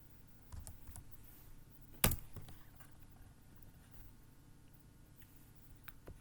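Quiet, close keystrokes tap on a computer keyboard while a Linux terminal command is typed, with one sharper louder key hit partway through and sparse ticks around it.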